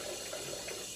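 Tap water runs in a steady, hissing stream while small dishes are rinsed in a sink, close and continuous.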